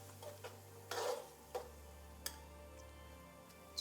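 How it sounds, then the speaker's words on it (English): Tomatoes and beans being stirred in a pan for a stir fry, a few faint scraping clinks of a utensil against the pan at irregular intervals over a steady low hum, no talking. "Just going to stir that around."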